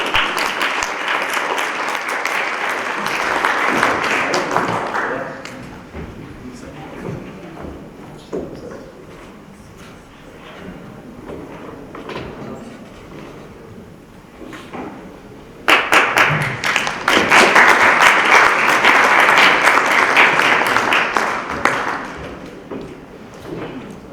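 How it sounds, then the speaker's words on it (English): An audience at a conference plenary session applauds speakers coming on stage, a loud, dense burst of clapping that fades out, a quieter stretch in between, then a second full round of applause. "A round of applause please for our speakers."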